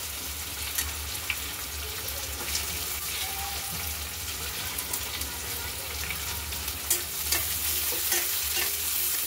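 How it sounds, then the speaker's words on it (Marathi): Onions frying in a pan with curry leaves and green chillies for poha, a close, busy sizzle with scraping and stirring clatter and occasional sharp pops. "आता आपण याच्यामध्ये कांदा घालू।"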